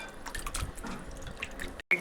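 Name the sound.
washing raw chicken under running tap water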